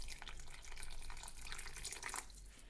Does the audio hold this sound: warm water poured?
yes